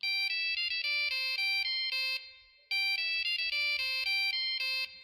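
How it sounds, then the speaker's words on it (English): The bright electronic satellite phone ringtone from Jurassic Park plays a repeating melodic pattern, two bursts separated by a short pause, clear and close. "that is the satellite phone ringtone"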